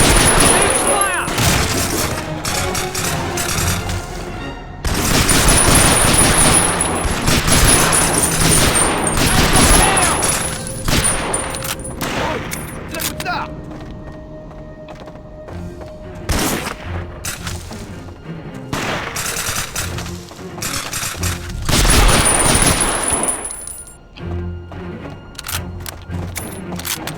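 Gunfire in the World War II shooter Medal of Honor: Rising Sun, with bursts of shots and explosive booms coming in loud dense waves across the clip, while voices shout over the battle.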